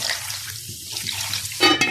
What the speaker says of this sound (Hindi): करीब आधा लीटर इसमें पानी शामिल कर देंगे।